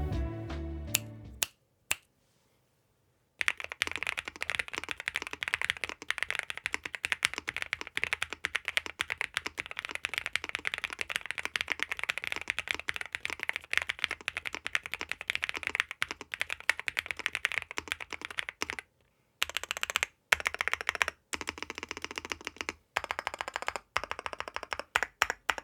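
Rapid, close typing on a NuPhy Gem80 mechanical keyboard fitted with themed MSA keycaps, a dense run of clacky keystrokes with a few short pauses and scattered single key presses near the end.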